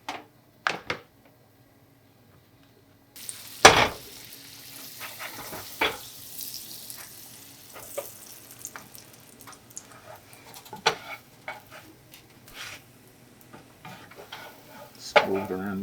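Patty melt frying in butter in a pan, a soft steady sizzle beginning after a quiet opening with a few knocks, punctuated by spatula scrapes, pan clanks and nudges as the sandwich is moved around.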